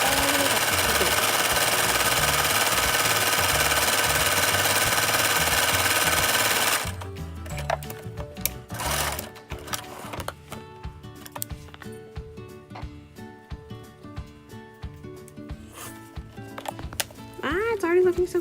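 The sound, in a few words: sewing machine stitching pleated ribbon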